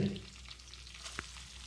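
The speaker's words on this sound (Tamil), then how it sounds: "வெங்காயத்தை லேசாக செவக்கிற அளவுக்கு வதக்கினா மட்டும் போதும்" Soft sizzling of chopped onions frying in a pan, quiet and continuous with a faint stir or clink near the end.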